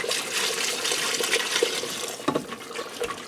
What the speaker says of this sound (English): I'm going to add that liquid back in there. And I'm just going to whisk this together to help dissolve that flour in there.